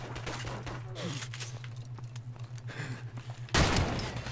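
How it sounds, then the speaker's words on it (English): Shotgun blasts and scattered gunfire ring out during a Call of Duty Modern Warfare Remastered Gun Game match, ending in a loud close burst at the end, with some game voices underneath. "Oh my god, the shotgun sucks!"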